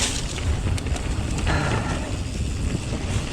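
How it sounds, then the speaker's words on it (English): Blizzard wind gusts buffet the microphone on top of the Cafall Trail, a loud, continuous low roar and rumble that surges and eases with no voices. "this wind, gust, whatever, really pushing me here."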